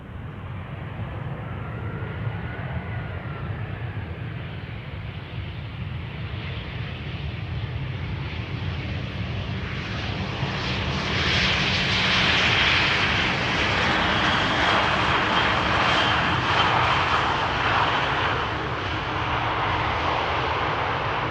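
KLM Orange Pride airliner arriving from Johannesburg and landing on the Polderbaan runway at Amsterdam Schiphol, a steady broad engine roar that grows louder toward the middle and stays strong, heard at a distance outdoors with no talk.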